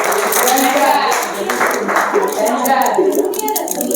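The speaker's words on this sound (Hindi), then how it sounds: "ताली बजाओ उसके लिए।" Audience at a school career counselling fair in Madhya Pradesh clapping for a student, a few seconds of scattered, fairly close applause mixed with room noise.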